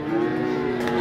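A Limousin calf lows once, a short loud moo close by at the Tuban cattle market, heard alone without talk.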